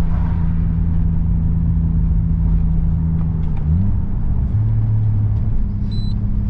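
A car engine hums steadily from inside the cabin while driving, with a low rumble and a gear change partway through, the pitch dropping and then resettling as it pulls along.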